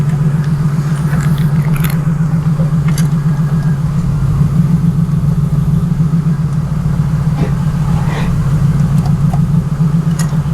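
A 5.4L V8 in a 2004–2014 Ford F-150 runs steadily while the transmission is shifted through its gears, giving a loud, constant low idle rumble with a few faint clunks and no talk.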